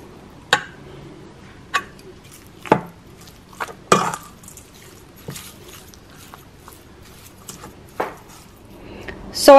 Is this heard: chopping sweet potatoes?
yes